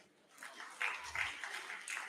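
Faint, thin applause from an audience at a CBN fair in Bauchi, a brief patter of distant clapping that rises slightly in bursts over about two seconds.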